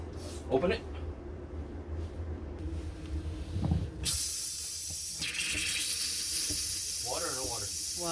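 Pressurized air and water burst hissing from the water lines of a Ford E-350 Thor motorhome being winterized with a bike pump, a sudden loud spray taking over midway, with people talking before and during it.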